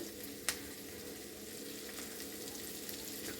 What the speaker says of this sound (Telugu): ఇవన్నీ చక్కగా వేగిపోవాలి